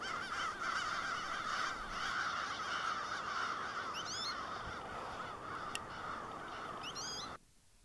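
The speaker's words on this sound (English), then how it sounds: "fly around and around all over the area while making all kinds of sounds and calls" Crows caw and call repeatedly over a busy outdoor backdrop, harsh calls coming in short bursts from varying distances before the sound cuts off near the end.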